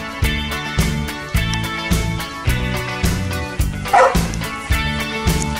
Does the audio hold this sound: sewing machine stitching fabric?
no